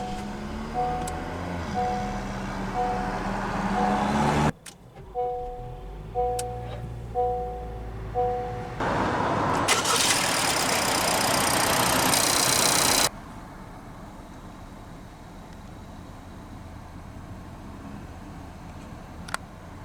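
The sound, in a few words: 2023 Honda CR-V EX-L engine starting and idling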